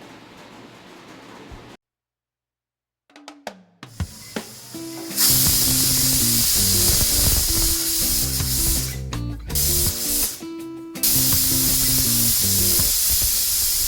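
A pressure cooker loaded with pav bhaji vegetables, salt and water lets off loud, close jets of hissing steam. A brief silence comes first, then sputters, then long sustained blasts with short breaks between them.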